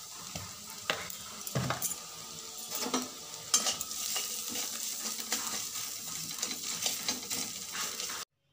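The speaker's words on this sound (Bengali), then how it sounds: "এরপর হলুদ, লঙ্কা গুঁড়ো আর পরিমাণ মতো লবণ দিয়ে মশলাটা কষিয়ে নেব।" A turmeric, chilli powder and salt spice mix fries in a pan, giving a steady close sizzle broken by several sharp stirring scrapes. It runs continuously without talk, then cuts off at the end.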